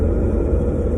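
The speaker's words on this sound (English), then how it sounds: "the tyre noise is quite up there as being louder than you'd want it to be" Constant low road roar from the tyres fills the cabin of a 2005 Nissan 350Z sports car, a steady dense rumble with no talk.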